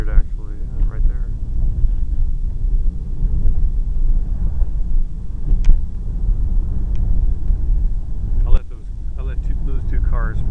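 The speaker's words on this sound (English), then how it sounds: "I'll let those two cars pass." Cars passing on a rural road beside vineyards, a steady low traffic rumble with a couple of brief swells as vehicles go by, heard from inside a moving vehicle with talk over it.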